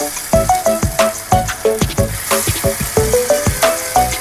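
Jowar appe batter spooned into a hot appe pan, giving a loud, close sizzle with rapid repeated scraping and tapping strokes of a spoon throughout.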